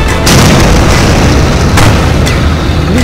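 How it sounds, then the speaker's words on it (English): Artillery explosions in the Red Steel tank video game, heavy continuous booming rumble, very loud and dense, with several sharp blasts cutting through the roar. "I am calling in artillery support!"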